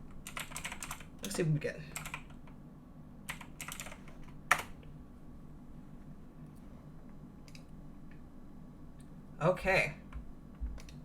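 Computer keyboard typing comes in short, quiet clusters of keystrokes with pauses between them, while someone speaks briefly.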